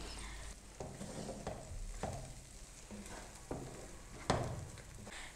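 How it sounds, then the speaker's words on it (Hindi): A spoon slowly stirs egg masala in a pan over a soft, steady sizzle, with scraping strokes coming at a regular unhurried pace and one louder scrape near the end. "आहिस्ता आहिस्ता हम इसमें चम्मच हिलाते रहेंगे।"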